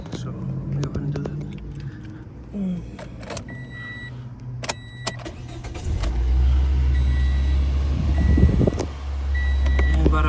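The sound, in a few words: 2015 Toyota Yaris engine starting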